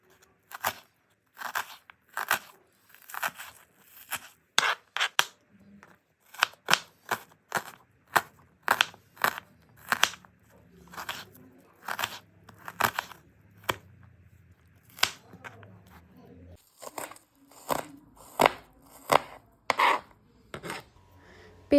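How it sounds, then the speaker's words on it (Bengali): Two medium onions being finely chopped with a knife on a board, a long series of crisp, sharp chops in uneven bursts with short pauses, close and clear, with no voices. "পেঁয়াজ দুটোকে খুবই ছোট ছোট করে কাটবো।"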